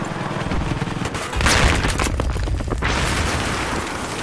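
Gunfire and explosions in the video game Battlefield 3 on the Sharqi Peninsula map, a dense, loud barrage of rapid shots and rumbling booms layered over one another with no talk.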